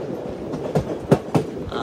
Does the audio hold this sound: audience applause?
no